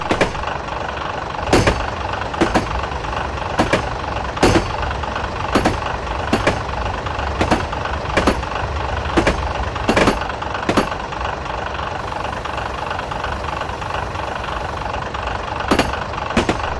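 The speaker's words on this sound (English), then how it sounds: "I'm going to release the brakes and just allow the train to coast up to the 70 speed limit." A train coasting downhill with brakes released in Train Simulator 2015 on the Forest Rail route. A steady, loud engine drone runs throughout, with sharp regular clicks at roughly one-second intervals, like wheels passing rail joints, and no talk.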